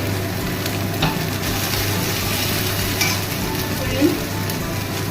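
Chopped red onion fries in hot oil as it is stirred, a steady close sizzle with a few louder scrapes and crackles standing out.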